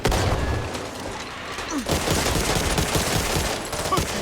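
Dense, continuous gunfire from the zombie shooter game Back 4 Blood forms a rapid barrage of overlapping shots and booms with little pause throughout.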